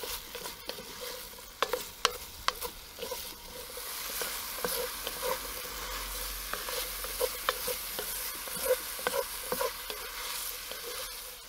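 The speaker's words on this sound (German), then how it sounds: "braten wir jetzt so lange an, bis die Zwiebeln glasig sind" Onions and garlic sizzle steadily in a Dutch oven, with a continuous frying hiss broken by repeated sharp scrapes and clacks of stirring against the pot, close and alone.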